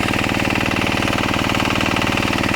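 A diesel engine powering a drip irrigation system on an eggplant farm runs loud and close, with a steady rapid mechanical pulse throughout and no speech.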